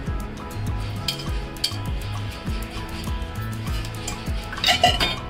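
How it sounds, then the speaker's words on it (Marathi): Spoon scraping and stirring coconut, jaggery and seeds together in a kadhai, with a steady rhythm of metallic scrapes and clinks against the pan, close and moderately loud, with no voice. "आता आपण हे सर्व साहित्य चांगलं मिक्स करून घेऊया"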